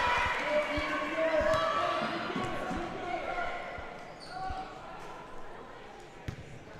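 Crowd noise at a girls' high school basketball game between Preston and Century, loud and close with a nearby cheering section, under steady play-by-play commentary and occasional ball bounces.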